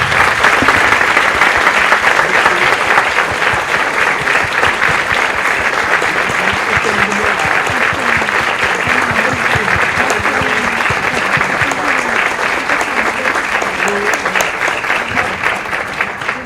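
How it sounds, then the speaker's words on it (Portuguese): A large conference audience gives sustained, dense applause in homage to Milton, loud steady clapping that holds evenly throughout before thinning slightly at the end. "queria então que todos nós pudéssemos agora dar uma salva de palmas em homenagem ao Milton"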